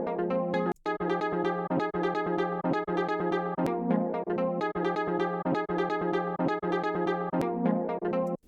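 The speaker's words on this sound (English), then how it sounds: "That's pretty much a sample chop." A pitched-down sample chop repeats three times and then changes on the last pass, in a house-style music production. It plays as a steady, rhythmic loop of bright, choppy tonal hits, with one brief dropout near the start.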